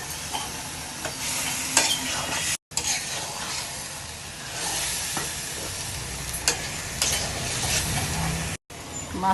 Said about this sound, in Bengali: মাছের সাথে আলুটাও কষায় নিব ভালো মতো